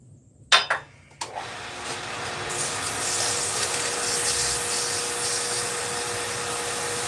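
Wood being sanded with 320 grit sandpaper, heard after a couple of sharp knocks as a steady, hissing, broadband scrubbing that rises and continues without pause to the end, fairly close and without talk.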